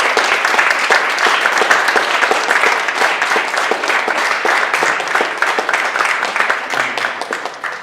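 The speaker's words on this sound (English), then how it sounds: "let's give them a round of applause" An audience at a panel event honoring dance inductees breaks into applause, dense, loud, steady clapping that carries on throughout and tapers slightly near the end.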